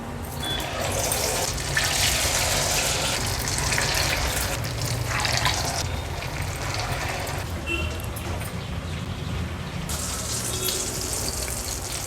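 Potato vadas fry in hot oil with a busy, crackling bubbling hiss that runs continuously at moderate loudness.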